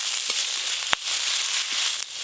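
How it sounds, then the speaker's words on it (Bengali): Whole garlic, chopped onion and green chillies fry in mustard oil in a kadai, giving a loud, continuous, close hiss and sizzle, broken by one sharp knock and a few faint scrapes. "এবার দিয়ে দেবো গোটা রসুন,"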